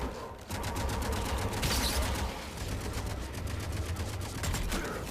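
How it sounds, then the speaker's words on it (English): Rapid gunfire in a Mass Effect 3 cutscene: dense, continuous rattling bursts of automatic fire layered over a busy rumbling background, fairly loud and unbroken. "the cutscene bullets are going crazy"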